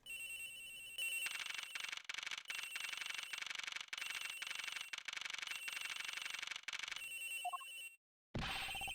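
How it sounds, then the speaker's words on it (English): A telephone rings in a flight attendant's room in a murder-mystery video game, a loud, steady electronic ring pulsing on and off for several seconds before cutting out, with nobody talking. "The ringing's coming from somewhere in here, sir."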